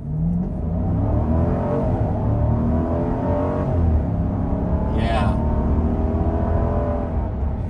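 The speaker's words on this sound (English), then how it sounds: "The sport mode definitely holds revs" A 2022 Jeep Grand Cherokee Summit Reserve with a V8 engine holds high revs in sport mode, giving a steady, loud drone that swells in pitch inside the cabin, with a brief spoken word over it.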